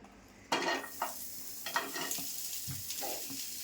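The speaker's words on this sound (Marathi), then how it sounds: "आता मी कांदा भाजून घेते पहिल्यांदा." Onion dry roasting in a pan without oil for a Malvani chicken curry, with a soft sizzle and several close scraping stirs of a spatula against the pan at irregular intervals.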